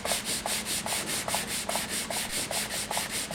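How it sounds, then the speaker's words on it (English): Sandpaper wet sanding a wooden stave drum shell flat, rhythmic close rubbing strokes about every half second, with no talk. "You have to wet sand the surface flat to get ready for buffing."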